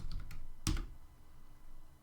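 A few keystrokes on a computer keyboard, including one sharp, louder clack, sounding close over a quiet room background with no talking.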